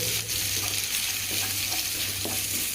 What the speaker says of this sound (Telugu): ఆనియన్స్ కూడా బ్రౌన్ కలర్లో ఒకసారి వేయించుకోవాలండి